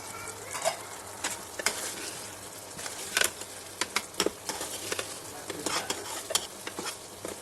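Homemade Manchurian balls fry in ghee in a pan, giving a soft steady sizzle broken by scattered crackles, pops and stirring scrapes, close and fairly quiet.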